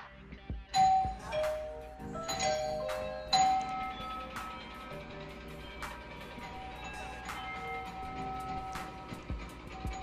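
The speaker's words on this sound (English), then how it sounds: "when you ring the doorbell and all the Alexas go off" Several Alexa smart speakers chime doorbell alerts in quick overlapping succession, ding-dong tones echoing through a room, then fading into a lingering hum.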